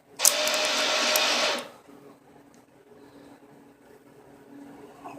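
A cheap Harbor Freight welder laying a quick bead on thin metal, giving a loud harsh crackling buzz for about a second and a half, then cutting off into a quiet room hum.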